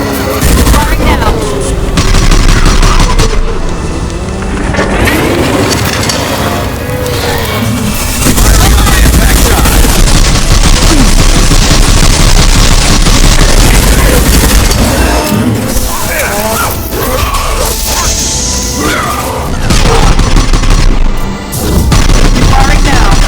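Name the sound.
weapons firing in Mass Effect 2 video game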